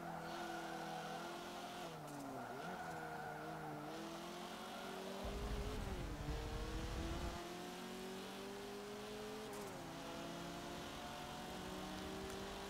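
Racing car engines in Forza Motorsport 7 drone steadily with layered, shifting pitches as cars accelerate and shift, with brief tire squeals and rumbling partway through.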